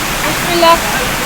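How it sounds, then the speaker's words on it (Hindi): Drain water runs down a flight of stairs in rainy Pokhara, a steady close rushing hiss with a brief louder surge in the middle. "जो पानी नीचे आ रहा है सीढ़ियों से, वो हमें बाद में पता चला कि वो ड्रेन वाला पानी है"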